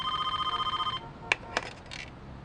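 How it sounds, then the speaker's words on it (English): Telephone ringing in a Driver video game cutscene, a steady electronic trill for about a second that then cuts off, followed by a few sharp clicks and clatters. "A phone's gonna be ringing the other side of the Transamerica building."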